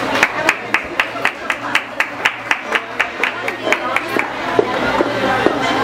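An audience claps in a steady rhythm for a singer at a live show, with sharp, evenly spaced claps carrying over crowd murmur and a faint background hum.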